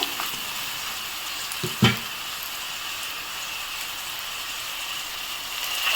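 Garlic paste goes into a pan of taro already fried red in oil, giving a steady bright sizzle throughout with a brief clatter near the two-second mark and no talk.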